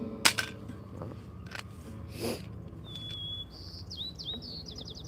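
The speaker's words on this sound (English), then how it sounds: "these birds are just so stoked on life right now" Birds chirp and sing outdoors, sharp repeated tweets and short whistled trills rising near the end over a steady low background rumble.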